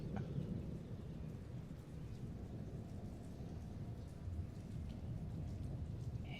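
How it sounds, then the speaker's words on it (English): Thunderstorm ambience in a Curse of Strahd tabletop session: a continuous low rumble of thunder with a steady rain-like hiss, heavy and unbroken throughout, with no voices. "you also hear some storms, sounds like they're moving in"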